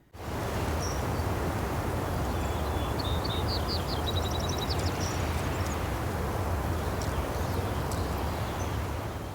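Designed outdoor ambience bed of wind and moving grass with insects and occasional bird chirps, a steady, dense wash held at an even level throughout with faint high twittering calls scattered over it.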